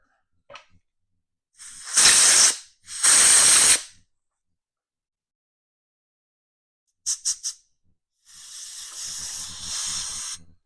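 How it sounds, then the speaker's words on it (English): Compressed air blasts through a Polaris carburetor jet hole in several sharp bursts: two long hisses, then three quick puffs and a longer steady blast, with silence in between. "Okay, then I finish off with compressed air"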